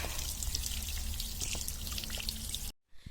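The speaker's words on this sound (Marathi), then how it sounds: "पाणी भरते मी आता" Water running and splashing steadily as it is poured to fill a container, a close, continuous trickle that cuts off abruptly near the end.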